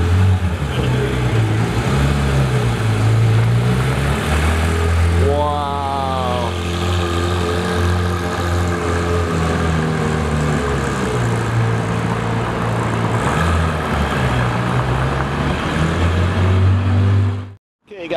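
A Porsche GT4 in Martini livery drives past, its engine a loud, steady roar with a rising, revving pass-by sweep partway through, cutting off sharply at the end.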